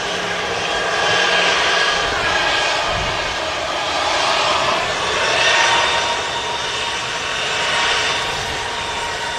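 EasyJet airliner engine at Manchester Airport, a steady broad roar that swells and fades in slow waves across the whole stretch, moderately loud and continuous with no talking over it.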